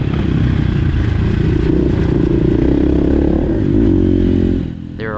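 Dirt bike ridden along trails in Costa Rica, a steady loud engine drone close by with rough clattering, easing off near the end.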